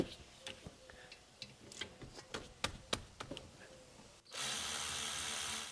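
A ratchet works the 14 mm rear brake caliper bolts on a 2009–2013 Subaru Forester with a run of quick, crisp clicks, close up, before a loud steady hiss takes over.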